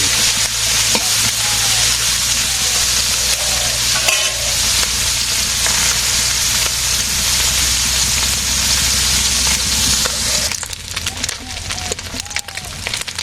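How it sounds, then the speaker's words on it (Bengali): Fish fries in hot oil with a loud, continuous sizzle and crackle up close, along with occasional stirring sounds, and the sizzle eases off a little near the end. "মাছ ভাজি হয়ে গেছে"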